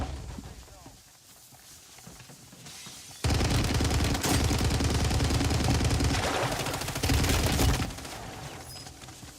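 Rapid bursts of video game gunfire crackle and rattle at a distance, with steady background noise and a voice talking over it.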